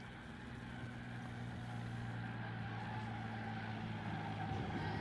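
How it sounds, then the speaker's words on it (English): A tractor scraping rubber off the track at an Australian Nostalgia Racers round drones steadily at mid distance, a low continuous engine hum with grinding texture, with no voices. "They have asked for the tractor just to do a couple of more laps. As you can hear it scraping the rubber on the track there."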